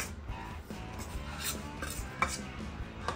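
A spoon stirs palm jaggery into kheer in a pot, giving soft scraping and clinking against the metal with a few sharper knocks, quiet and without talking.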